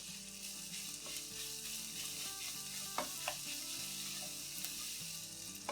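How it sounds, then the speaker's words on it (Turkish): Ground beef frying and being stirred in a pan for a baked cauliflower dish with béchamel, a faint steady sizzle with a few light spoon knocks over soft background music, no voices. "Kıymamızı böyle birkaç dakika kadar karıştırarak kavurmaya devam ediyoruz."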